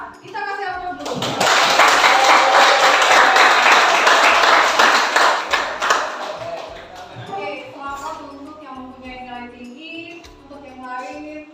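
Schoolchildren clap together in a classroom for the top-scoring student, a dense burst of applause that rises quickly, holds for about five seconds, then fades as a teacher begins talking.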